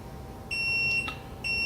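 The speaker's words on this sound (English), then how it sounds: "Well, there's our timer." A kitchen timer gives two short electronic beeps while sourdough rye bread bakes in the oven, clear and close over a faint background hum.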